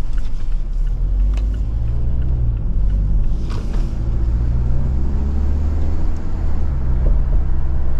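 A Mazda6 Wagon with a 2-litre non-turbo petrol engine revs hard under acceleration, heard from inside as a loud, sustained low drone and rumble that holds steady throughout.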